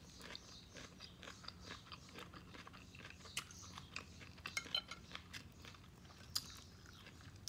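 Close, quiet chewing and crunching as someone eats pinakbet, a Filipino vegetable dish with okra, with soft bites and faint cutlery clicks scattered through.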